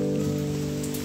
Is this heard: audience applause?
no